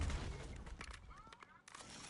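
Gunfire rattles at the player in a first-person shooter video game, several quick crackling bursts that are faint and distant-sounding, with muffled game noise between them.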